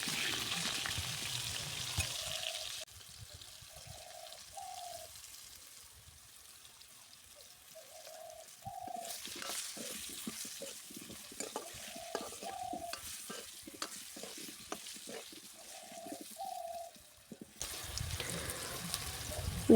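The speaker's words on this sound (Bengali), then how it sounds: "আলুগুলোকে আমি এখন একটু ভেজে নেব সামান্য হলুদ গুঁড়ো আর নুন দিয়ে ভেজে নেব" Potatoes fried in oil with a little turmeric and salt, a steady close sizzle with repeated stirring scrapes and clatters of a spatula in the pan, continuing at length without talk.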